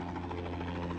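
A helicopter flies nearby, its rotor giving a steady, low, pulsing thrum with a constant engine drone and no talk over it.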